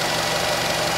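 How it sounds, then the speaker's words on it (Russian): A 2012 Nissan Qashqai 2.0 engine idles warm at about 700 rpm under an open bonnet, a loud, steady, close mechanical hum with a faint even knock and no voices. "По двигателю слышно обороты рабочие."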